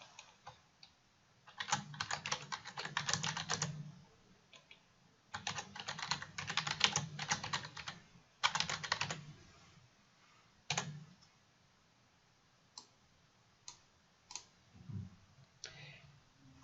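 Bursts of fast typing on a computer keyboard come in three clusters, followed by scattered single key clicks, close and clear with no talking.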